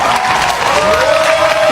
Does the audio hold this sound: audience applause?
yes